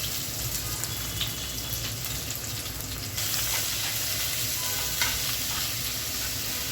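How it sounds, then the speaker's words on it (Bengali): Chopped onion goes into hot oil with dried red chillies, and a busy crackling sizzle rises and continues with stirring. The frying grows a little louder partway through. "এখন আমি 4টা শুকনো মরিচ এই তেলের ভিতরে ভেজে নিচ্ছি"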